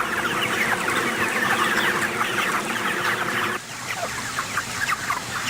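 Dense chorus of chickens clucking continuously on a poultry farm, many birds overlapping at close range, with a slight drop in level partway through and no voices.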